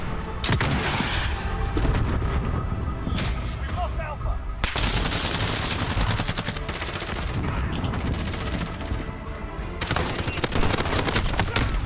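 Rapid video game gunfire from Call of Duty: Modern Warfare in One Man Army mode, dense loud bursts of automatic shots and impacts running almost continuously with brief gaps.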